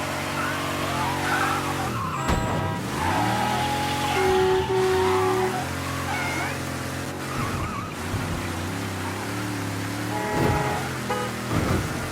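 A car in the video game Mafia III revs and skids, its engine rising and falling in steady surges while tires squeal in short bursts. Game characters talk in the cabin over the engine throughout.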